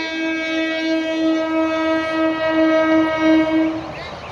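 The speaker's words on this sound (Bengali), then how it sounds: "ব্রিজের উপর দিয়ে ট্রেন যাচ্ছে।" A train crosses a railway bridge near Panskura beside marigold flower fields, its loud, sustained horn blaring for several seconds over a steady rolling rumble.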